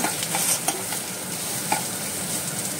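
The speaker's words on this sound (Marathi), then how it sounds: "कांदो भाजता" Onions fry in a pan with a constant soft sizzle, broken by a few sharp clicks and scrapes as they are stirred, close and without talking.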